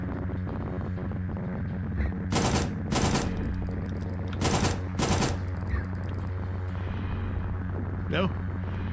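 SMG fire in the video game Signalis rips out in four short, loud bursts, two close together and then two more, over a steady low rumbling hum and ambient background.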